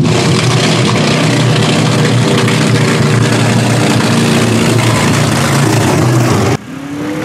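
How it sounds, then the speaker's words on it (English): A loud, rough off-road racing truck engine roars continuously at high revs at a mud bog, close by, then cuts off abruptly near the end. "That truck sounds amazing."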